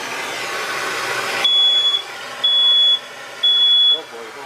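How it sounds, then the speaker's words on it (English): A smoke detector mounted in a cabinet of a bathroom undergoing plumbing work sounds three loud, high-pitched electronic beeps at a steady interval, the first over a broad rushing noise that cuts off abruptly. "At least we know the smoke detector works."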